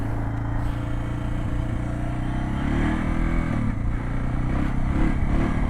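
Suzuki DR650 motorcycle engine idling with the choke pulled out, running lean, a close, loud, steady low thumping with slight rises in revs and no voices.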